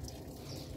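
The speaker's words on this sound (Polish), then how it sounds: "Spuszczam teraz właśnie stary płyn." Old rust-colored coolant draining from a car radiator, a steady soft trickle of liquid running out, faint and continuous with no talk.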